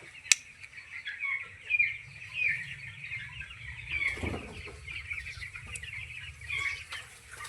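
Young 18-day-old chickens on a poultry farm cluck and chirp continuously at close range, with occasional wing flaps and a brief rustling burst partway through; no speech.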